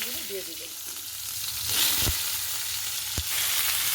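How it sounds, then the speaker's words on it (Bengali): Vegetables for pui shak chorchori drop into hot oil in a wok with dried red chillies and five-spice tempering, setting off a rising frying hiss with a couple of sharp clatters close by and a brief voice at the start. "এবার সবজিগুলো দিয়ে দিলাম"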